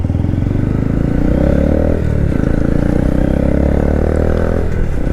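A Honda Grom motorcycle engine runs loud and close, a continuous rumbling putter that dips briefly near the two-second mark before holding steady.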